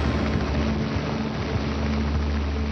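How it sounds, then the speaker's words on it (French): Helicopters rented by television crews hover overhead above a scene surrounded by gendarmes, producing a loud, continuous rotor and engine drone with a steady low thrum and broad noisy wash, without speech. "Certaines télévisions ont même loué des hélicoptères."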